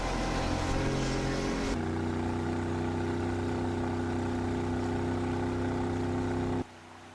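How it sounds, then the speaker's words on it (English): A steady droning boat motor hums loudly with constant pitch on a river, before cutting off abruptly near the end. "now we're headed out to the boat. We're going to take the river"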